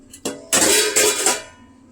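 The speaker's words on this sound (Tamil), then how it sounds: "இப்போ குழம்பு ஊற்றிக்கலாம்." Curry being poured onto a plate of food at home, a short wet splash and clatter of dishes that starts abruptly, swells for about a second, then fades out.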